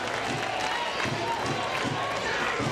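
American tennis fans cheer and clap at a 2006 Davis Cup quarterfinal between Fernando González and James Blake, a steady wash of crowd noise filling the stadium while a commentator talks over it.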